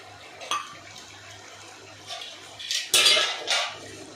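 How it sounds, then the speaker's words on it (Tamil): Paneer cubes going into a pan of gravy and being stirred, with a few light clinks and scrapes of a spoon against the pan over a low background hum. "அந்த பன்னீர் உள்ளே சேர்த்துருவோம்"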